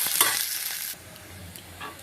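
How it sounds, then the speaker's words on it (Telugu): Onions fry with a bright sizzling hiss in a pan with whole spices for an egg masala curry, loud at first, then dropping to a quieter crackle with faint stirring. "ఆనియన్స్ కొంచెం బ్రౌన్ కలర్ వచ్చే వరకు ఫ్రై చేసుకోవాలండి."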